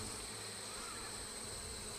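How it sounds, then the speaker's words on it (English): Honeybees buzz around an opened, modified Warre hive during an inspection, a steady close insect drone that holds evenly throughout, with no talking. "Get the bee on my hand. Brush him off."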